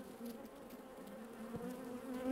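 Honey bees buzz with a steady, low, continuous drone that stays faint and even throughout, with no voices.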